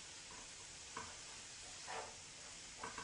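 King crab legs sautéing in butter in a pan, with a soft, steady low sizzle and a few brief stirring scrapes, quiet and close.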